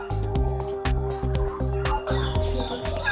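Turkeys in a meat-bird farm pen, toms and hens past laying, give a close, busy run of clucks and gobbling calls with shuffling and knocking sounds.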